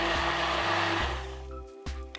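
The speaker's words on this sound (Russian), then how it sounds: "Вымешала лопаткой, а теперь помогаю себе блендером." A hand blender whirs loudly and steadily mixing a from-scratch soap base, its motor pitch shifting slightly, then cuts out briefly before starting again.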